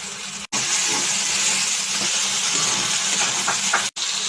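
Water poured onto spices fried in a pan sets off a loud, steady hiss of steam and sizzle that holds through the whole stretch with two brief cuts.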